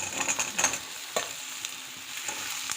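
Chopped onions and pumpkin pieces with a pinch of asafoetida frying in a pan for pumpkin dappalam, a steady bright sizzle broken by several spatula scrapes and stirring knocks, close and alone.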